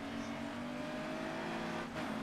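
Race car engine in the racing video game Grid Autosport on a street circuit, a steady droning whine held at fairly constant revs throughout, with a brief dip near the end before picking up again.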